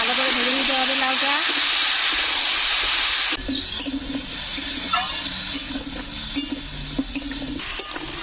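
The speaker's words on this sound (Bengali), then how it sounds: "লাউ দিয়ে দেবো, ভালো করে ভেজে নিতে হবে লাউটা।" Bottle gourd frying in a pan, first as a loud steady hiss of steam and oil, then dropping to a quieter sizzle with clinks of a utensil against the pan and a voice talking at times.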